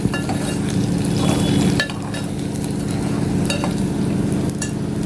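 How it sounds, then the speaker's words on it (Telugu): Onions frying in a pan with a steady loud sizzle, a spatula scraping and stirring through them and a few light metallic clinks, close and continuous. "ఉల్లిపాయలు వేగిపోయాయి కదా"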